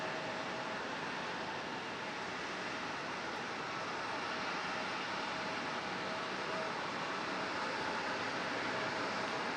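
An Air Canada Boeing 737 jet airliner roars at Raleigh-Durham airport, a loud, steady broadband engine rush that fills the whole stretch without letting up.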